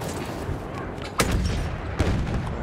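Battlefield 1 gameplay with loud, close gunfire, a sharp crack followed by a second heavy blast like a tank shot, over a dense, rumbling battlefield background.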